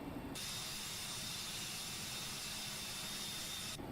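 An MD-88 jet engine roars in a flight simulator, a steady whooshing hiss with a thin high whine running unbroken for several seconds, moderately quiet and alone, cutting off abruptly at both ends.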